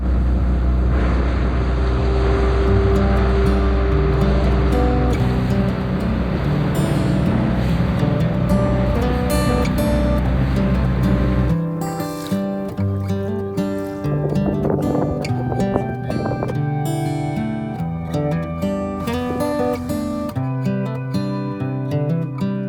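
A small dinghy outboard motor hums steadily with water and wind noise on the Maine coast, then shifts to a lighter, choppier drone with splashing.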